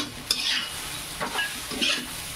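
Chopped coriander stirred into sushila, a puffed-rice breakfast dish, frying in a pan: a steady soft sizzle with a few close scraping stirs of a spoon against the pan, and no voices.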